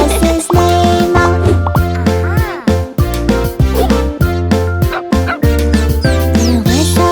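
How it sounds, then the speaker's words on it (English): Dog barks punctuate a bouncy children's song about a farmer's dog, short loud woofs landing on the beat over sung melody and steady backing music. "there was a farmer who had a dog, and Bingo was his name"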